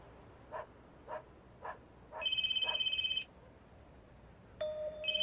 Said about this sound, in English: Oh, I hear the ringing.